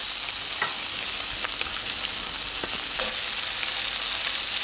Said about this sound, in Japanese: 強火でがっつり焼いてください